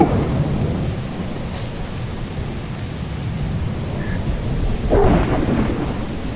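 A thunderstorm with rain in the video game Lethal Company: a continuous hiss of heavy rain with a low rumble of thunder swelling near the end, loud and close.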